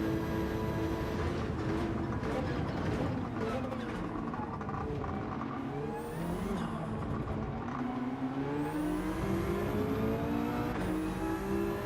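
A GR3 race car engine in Gran Turismo 7 drones continuously and loudly, its pitch rising and falling as it revs and shifts through the race, with no talk over it.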